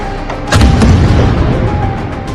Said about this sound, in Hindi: सारातोव पर हुए इस हमले में रूस की बहुमंजिला इमारत में एक बड़ा विस्फोट हुआ